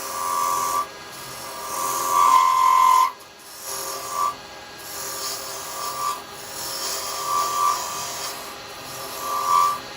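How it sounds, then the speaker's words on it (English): A carbide chisel scrapes against wood spinning on a lathe while a small wooden Christmas angel is turned. The cutting comes as steady, close rasping passes with brief pauses between them. "Just reducing the size a bit before I go to the round chisel."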